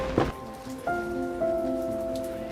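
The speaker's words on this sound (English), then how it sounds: "As the rain comes back" Rain falls on an outdoor film set as the crew works, a steady wash of patter running throughout with a soft tonal hum beneath it and a brief thump near the start.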